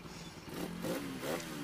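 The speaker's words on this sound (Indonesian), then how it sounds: "Suara mesin halus ya." A Jupiter MX motorcycle engine, freshly reassembled, idles steadily nearby, a smooth continuous hum with slight rises in pitch and no voices.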